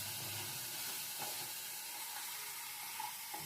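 Spices with garam masala fry in a pan, a steady broadband hiss of sizzling oil that stays constant throughout, with faint stirring touches underneath.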